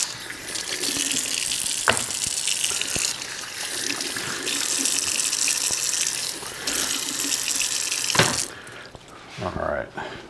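Kitchen tap running while food is washed under it, a steady rushing gush of water interrupted by brief clunks and a pause near the end, moderately close, with no talking over it.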